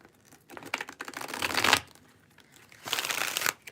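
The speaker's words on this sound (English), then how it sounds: "while I shuffle" Tarot cards are shuffled up close in two distinct bursts of quick papery riffling and slapping, the first longer, the second after a brief pause, with no talking.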